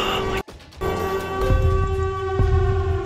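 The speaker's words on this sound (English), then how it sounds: "That's the Siren Head sound." A Siren Head creature's wailing siren call, loud and close, with sustained harmonic tones that cut out briefly before resuming and swelling, layered over low rumbling.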